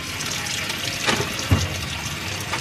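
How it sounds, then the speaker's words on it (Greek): Tap water running over zucchini, carrots and potatoes being washed in a kitchen sink, a steady close rush of water with a few brief splashes and thumps as the vegetables are handled. "κολοκυθάκια, καροτάκια και πατατούλες. Τα πλένω λοιπόν όλα πολύ καλά."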